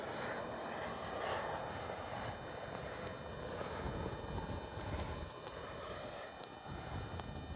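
An Arrows RC F-15 jet with a 64mm ducted fan flies past with its landing gear coming down, a steady whining rush of fan noise, faint and somewhat distant against wind.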